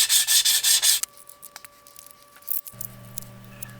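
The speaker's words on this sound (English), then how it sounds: "So don't forget to do some sanding here to rough this up." Short, rapid rough scrubbing from sanding the upper wing of a 47% scale Pitts Special model aircraft to key the surface, close by and loud, then a few faint scattered clicks and taps.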